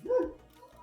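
Single short dog bark heard fairly close, a quick woof lasting under a second with a soft trailing tail, alone without talk.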